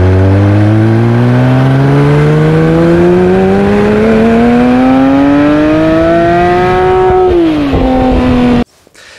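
Porsche 991.2 GT3 RS Weissach with its naturally aspirated engine revving loudly and close, pitch climbing steadily over several seconds to a high peak, dropping briefly, then cutting off abruptly near the end.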